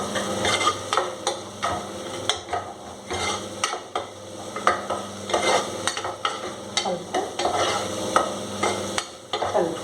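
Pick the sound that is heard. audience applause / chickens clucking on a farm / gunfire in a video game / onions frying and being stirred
onions frying and being stirred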